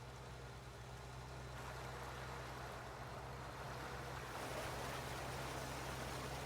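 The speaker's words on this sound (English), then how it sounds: "That sounds like waves crashing on the shore." Waves washing onto a shore near a pond in Farming Simulator 19, a soft continuous broadband rush with a low steady hum beneath it, swelling slightly louder toward the end.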